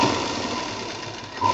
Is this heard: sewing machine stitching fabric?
yes